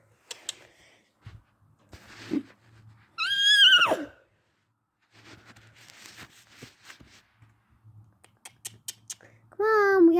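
Horses in a snowy field give sharp, high neighs and whinnies in a couple of distinct bursts, with a person calling and a low hum between them.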